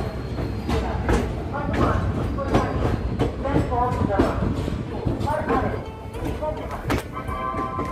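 Mussoorie Express train rolling into Ghaziabad station at night, with a continuous rumble and rhythmic clatter of carriages over the rails throughout, busy and close.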